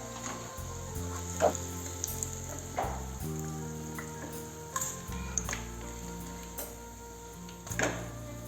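Banana snack frying in hot oil, a soft steady sizzle and bubbling heard close up, with light scraping stirs and clinks over it and no talk.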